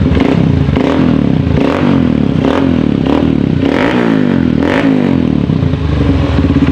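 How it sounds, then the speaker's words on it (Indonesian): Honda CRF 150L motorcycle engine with a rough, sputtering fault, throttle blipped repeatedly so the revs rise and fall in a steady rhythm, loud and close with no talking. "saya akan mulai memain gasnya ya teman"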